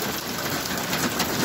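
Hail falling in Saudi Arabia, a dense, even rattle and hiss of pellets striking surfaces without letting up, steady and fairly loud with no voices.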